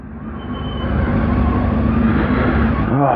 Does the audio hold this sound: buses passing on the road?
yes